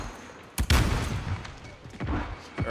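Grenades bursting in Call of Duty: Modern Warfare during a competitive Search and Destroy match, several sharp heavy blasts with gunfire-like cracks, loud and close, spaced across the moment with no talk over them.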